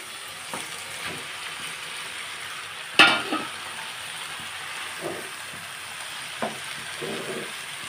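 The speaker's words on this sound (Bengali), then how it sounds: "বাঁধাকপি দিয়ে আমি ভালোভাবে নেড়ে চেড়ে নেব" Cabbage stirred in a pan of hot mustard oil, a soft continuous sizzle with a sudden loud clatter of the spoon near the middle and a few quieter scrapes after it, with no speech.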